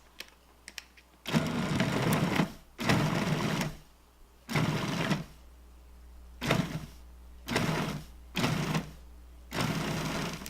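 A food processor pulses cubed butter and Crisco, about seven short motor bursts of one to two seconds each, separated by brief quiet gaps, loud and close with no talking.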